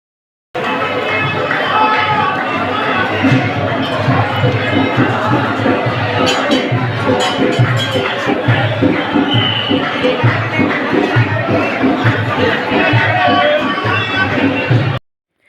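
A large crowd of devotees fills a Sufi shrine at Peer Nigaha, a dense, continuous hubbub of many voices and chatter with occasional cheering swells, loud and close throughout.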